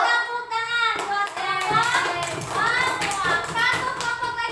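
Children in a classroom clap their hands for a group presenting during a lesson, dense close clapping mixed with kids' chatter throughout.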